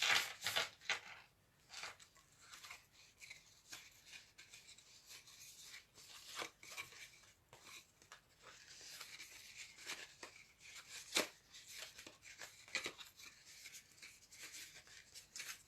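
Folded paper card being creased by hand, a dry rubbing and scraping of paper with sharp crinkles and short rasps, fairly close and continuous, with no talking.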